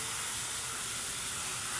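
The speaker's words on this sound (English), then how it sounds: "when I actually spray this with water" Garden hose water spraying onto a Litom solar LED landscape light outdoors, a steady, even hiss with no pauses and no voices over it.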